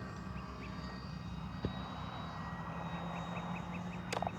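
A Kavan Pulse 2200 V2 electric RC plane cruises overhead with a steady, fairly faint motor drone that stays even throughout, with brief chirping in the background near the end.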